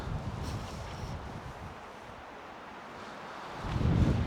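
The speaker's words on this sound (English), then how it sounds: "It's really catching the wind" Steady wind buffets a Tigris Hillridge tent pitched in breezy conditions, a broad rushing roar with microphone buffeting that eases in the middle and swells into a stronger gust at the end.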